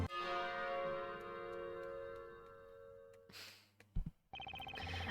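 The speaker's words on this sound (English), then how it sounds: "After the bell sounded," A bell rings in Professor Layton vs Phoenix Wright: Ace Attorney: a sustained, resonant peal whose long metallic overtones decay over three seconds, then a sharp knock and a burst of brighter chiming tones, with no talk.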